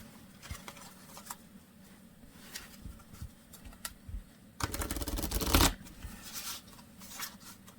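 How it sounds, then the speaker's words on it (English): Playing cards are shuffled for a game of Beleaguered Castle solitaire: soft, close card handling and taps lead into one dense, loud riffle burst near the middle, followed by lighter shuffling. "while I shuffle, just keep them up there so they don't get in my way."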